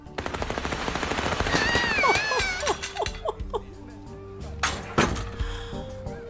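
Rapid bursts of gunfire in the Little Misfortune video game, loud and dense over game music, followed by scattered pops and clatter.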